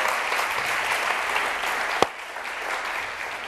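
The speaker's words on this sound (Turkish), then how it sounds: "Bir alkış ki yıkılsın." Studio audience applause on the Turkish quiz show Kelime Oyunu after contestants solve a word round, a steady bed of many hands clapping with one sharp louder knock near the middle, then the clapping continues slightly softer.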